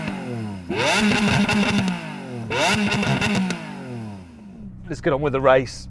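Lamborghini Aventador SV V12 engine with sports exhaust revving in two long bursts, each rising and falling in pitch with a harsh buzzy tone, then someone speaks at the end.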